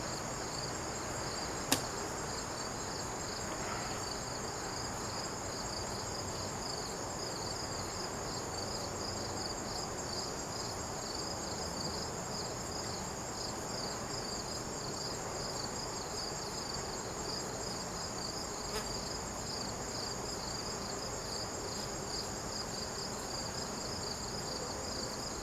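Honey bees hum steadily around an open hive during a late-season inspection before honey extraction, a dense continuous drone close by that fills the whole stretch, with a couple of small sharp clicks and no talking.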